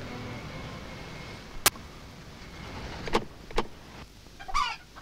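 A car being boarded: a sharp click, then two more thumps and a brief mechanical whir, heard close over a steady low background hum with no talk.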